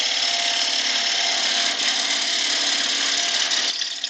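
A silver birch bowl blank is cut with a power tool, giving a loud, steady whirring roar that runs almost unbroken before easing off at the end.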